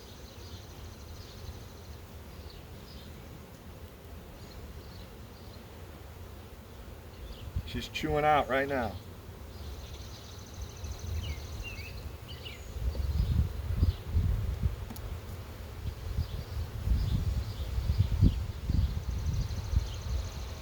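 Honeybees hum steadily at an open hive during an inspection, a soft low buzz that grows louder and more active in the second half, with a person talking briefly near the middle.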